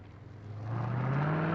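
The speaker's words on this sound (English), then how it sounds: "I'm going to get behind the wheel and take this car for a drive." A BMW Z8 sports car driving, its engine note steadily rising in pitch as it accelerates, a smooth continuous hum with road noise that builds in loudness.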